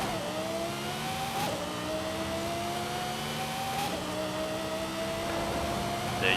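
A race car engine in Forza Horizon 5 whines and climbs through the gears during a roll race, pitch rising then dropping at each shift, loud and continuous with no talk.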